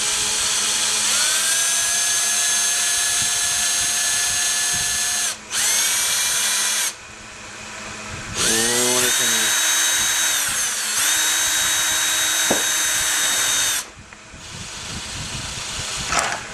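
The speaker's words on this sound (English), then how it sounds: "I'll start to drill my other hole." Power drill boring a hole, whining loudly and steadily with pitch shifts as it starts, bogs and speeds up in several bursts with brief pauses between.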